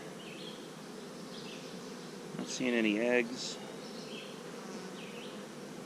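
Honey bees buzz in a steady, continuous drone during a July beehive inspection, with a person speaking briefly over the hum midway through.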